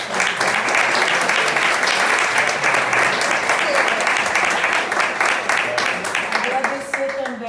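A seated audience at a Brazilian panel event on religion gives sustained, loud applause that fills the entire stretch evenly, with no break in the clapping.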